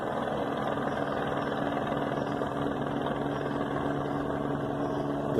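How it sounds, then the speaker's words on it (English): A helicopter circling overhead, heard as a steady, continuous engine and rotor drone with no distinct blade beats, holding at an even level throughout. "The helicopter circling it."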